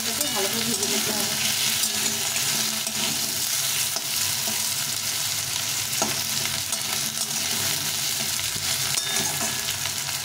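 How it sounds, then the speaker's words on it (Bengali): Potatoes fry with ginger and green chili in a pan, a dense, continuous sizzle broken by repeated scraping and clatter as they are stirred, up close and with no talking. "আদার সঙ্গে আর কাঁচা লঙ্কার সঙ্গে আলুটাকে ভালো করে ভেজে নিতে হবে।"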